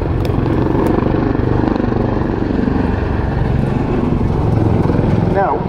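A Royal Navy Wildcat helicopter flies a low-altitude display manoeuvre at the Yeovilton air day, a steady loud rotor and engine roar that fills the scene while a voice talks over it.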